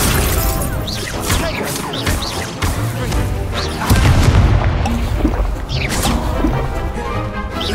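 Accio pull spell cast in the video game Hogwarts Legacy, loud magical whooshes and crashing impacts packed in a rapid, busy battle sequence, with a voice faintly shouting spell names among the effects.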